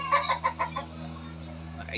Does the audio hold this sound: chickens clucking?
yes